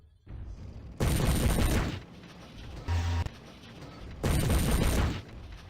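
Heavy AC-10 autocannon fire in MechWarrior 3, two loud sustained bursts of booming shots about three seconds apart, with a shorter mechanical thump between them and a low rumble underneath.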